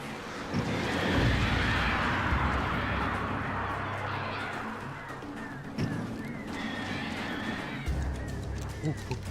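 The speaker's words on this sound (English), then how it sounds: "Birds." Honking, goose-like bird calls in the Alan Wake video game, repeated cries spread over several seconds, fairly loud against an ambient game background.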